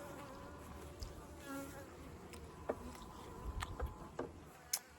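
Honeybees buzz around a hive during August beekeeping, a faint, continuous hum with individual bees passing close now and then amid soft outdoor background noise.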